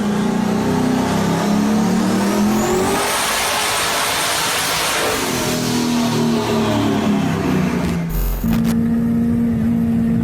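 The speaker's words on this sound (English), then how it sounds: "I think it's a 1994 Chevrolet Camaro" A 1994 Chevrolet Camaro engine revving loudly and repeatedly, pitch climbing and dropping, then a brief cut and the engine settling into a steady idle.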